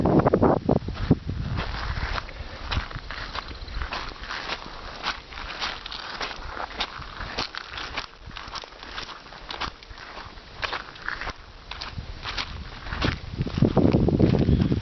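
Wind blowing off a lake in Michigan gusts and buffets steadily, rising into louder rushing bursts at the start and end, with soft crunching steps beneath.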